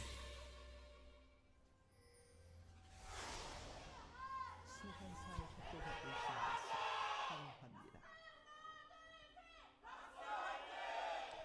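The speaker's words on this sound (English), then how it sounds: "that MVP cheer was louder than I think either of the cheers in the first series" An esports arena audience at a League of Legends LCK Spring match cheers and chants for team MVP, a loud burst of voices swelling and fading in waves, with scattered shouts and crowd chatter throughout.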